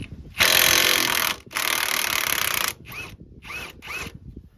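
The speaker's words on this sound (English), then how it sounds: "now we're taking the lower strut bolt out" Power tool spins out the lower strut bolt on a first-generation 1995–2004 Toyota Tacoma during a level kit install: two long, loud whirring bursts, then several short ratcheting spurts, close by with no talk.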